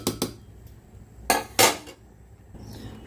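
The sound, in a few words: closing the lid on a pot of mango khichuri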